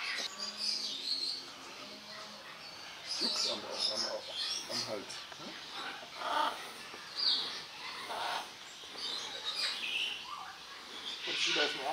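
Birds at the Vogelburg bird park in Weilrod, Taunus, chirp and call in scattered bursts, with people talking over them throughout.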